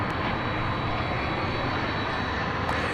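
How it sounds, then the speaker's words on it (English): A UPS cargo airplane at DFW Airport, a steady broad roar of engine noise from a distance, continuous and unchanging throughout with no speech. "This plane is hauling cargo for UPS."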